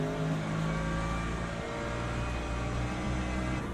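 A race car engine in the game Le Mans Ultimate drones steadily with a low, labored growl that sags and strains rather than revving freely, loud and close throughout.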